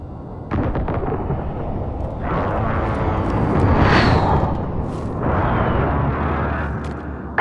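Airstrike explosions thunder through a Call of Duty Warzone battle, a sustained roar of heavy booms with sharp blasts near the start and a swelling rumble in the middle, loud and close with no voices.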